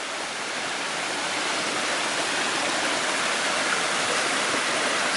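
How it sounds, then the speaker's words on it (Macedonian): Spring water gushes and flows in a continuous, loud, steady rush, close by and with no other sounds over it. "От всекъде вода извира."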